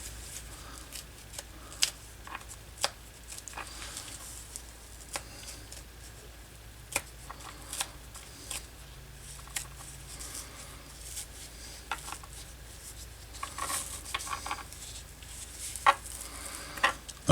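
Old leather being slowly peeled off stuck paper on a Gerstner tool chest handle during restoration, with soft tearing and scratchy crackles broken by sharp little snaps, close up and quiet.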